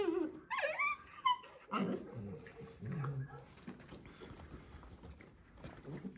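Shelter puppies let out high whimpers and short yips close by, a cluster of cries early on followed by quieter fidgeting and softer noises, with faint talk in the background.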